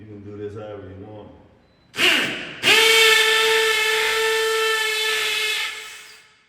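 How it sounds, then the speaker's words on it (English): Power drill boring into a soft brick wall: a loud, steady whine with a strong tonal hum that starts in two bursts after a short stretch of talk, then runs continuously to the end. "We'll drill this top one."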